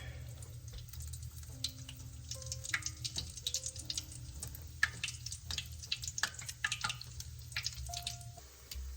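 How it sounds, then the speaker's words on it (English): Canned biscuit dough sizzles in hot frying oil, a quiet continuous crackle with scattered sharp pops and drips, close by. "See how they start sizzling? Your oil is ready."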